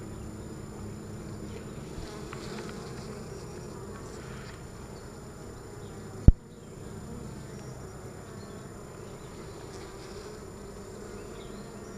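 Honeybees buzz in a steady, close drone throughout a hive inspection, with one sharp knock or click cutting through midway.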